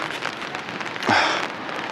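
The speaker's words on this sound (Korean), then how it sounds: "이렇게 지금 이제 비가 오고 있는 상태고" Steady rain falls beside the swollen Nakasu river in Fukuoka, a continuous soft hiss with a brief louder swell of spatter midway through, no voices.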